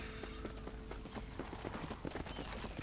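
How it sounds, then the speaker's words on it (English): Horse hooves clip-clopping in the video game Red Dead Redemption, a quick, regular run of hoofbeats over a dense background, moderately close and steady throughout. "Mount your horse."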